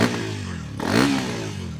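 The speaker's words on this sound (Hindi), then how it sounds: "मैं इस तरह से आपको मोटरसाइकिल का एग्जॉस्ट साउंड सुनाऊं" Hero XPulse 210 motorcycle with an upswept exhaust revving near the microphone, a deep bassy engine note that swells in a single rev around the middle before settling back to idle.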